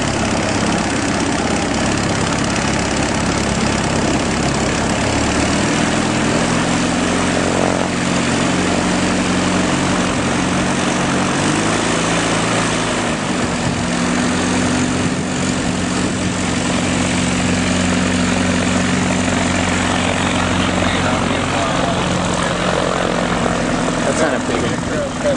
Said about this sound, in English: This is the new turbo-powered Waiex. And it's Drew gonna take it out for the first flight test